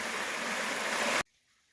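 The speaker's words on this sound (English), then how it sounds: "you can hear the trickle of this second stream crossing" A small stream trickles across the Appalachian Trail on Mount Cube, New Hampshire, as a steady, close rush of flowing water that cuts off abruptly partway through.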